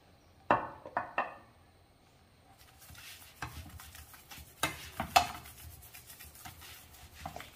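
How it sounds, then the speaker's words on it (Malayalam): A beetroot chapati cooks on a pan with a little oil: a few sharp taps and clatters of utensil on the pan, then a soft, faint sizzle with scattered scraping and clicks, quiet and close. "ഇനി നമുക്കിത് ഒന്ന് മറിച്ചിടാം. അല്പം എണ്ണ തൂക്കാം."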